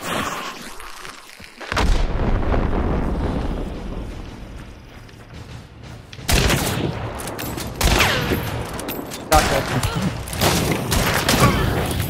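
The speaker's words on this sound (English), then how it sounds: "I threw a nade right at my foot." Grenade blast in a first-person shooter video game, loud booming explosions going off close by in several bursts amid gunfire, with a voice talking briefly.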